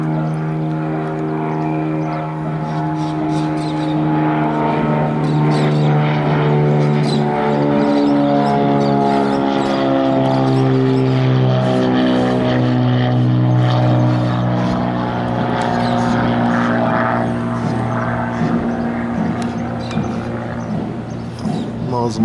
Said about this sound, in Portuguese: Vamos mais uma vez aqui no aeroporto de Sorocaba, gravando aí pra vocês as melhores imagens aí.